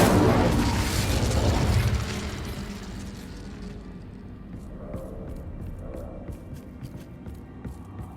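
Incendio fire spell cast in the Hogwarts Legacy video game, a loud fiery whoosh and burst at the start that fades into a lower crackling rumble with small scattered ticks.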